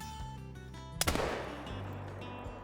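Powerful hunting rifle shot in theHunter: Call of the Wild, a single sharp loud crack with a rolling echoing tail, over a soft game soundscape.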